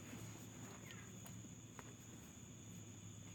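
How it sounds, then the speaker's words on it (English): Crickets chirping at night, a faint, steady high-pitched trill that runs unbroken under a quiet background hiss. "Sitting here listening to the crickets chirping because the birds are asleep"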